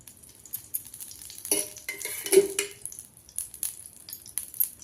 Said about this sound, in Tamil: அடுத்தது நெய் விட்டுக்கலாம்.